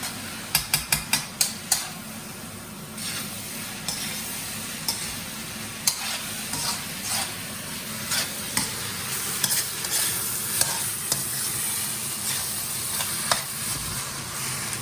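Shrimp and vegetable fried rice sizzling hard in a hot wok, a dense steady fry broken by quick metallic clacks of the spatula, loud and close, with no voices.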